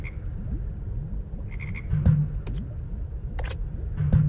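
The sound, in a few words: frogs croaking in a video game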